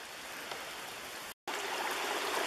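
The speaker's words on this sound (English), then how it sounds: "Water dripping all over." Water dripping and trickling steadily along a forest trail near Green Lake Road in Sitka, a soft continuous patter with a brief dropout partway through.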